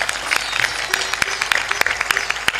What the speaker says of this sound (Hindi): थोड़ा जोर से ताली बजाया करो